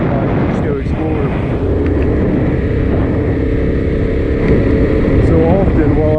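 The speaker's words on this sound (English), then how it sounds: "while I'm riding my adventure bike" An adventure motorcycle rides through 11 Mile Canyon in the Colorado backcountry, its engine droning steadily and close throughout, mixed with wind rush, while someone talks over it.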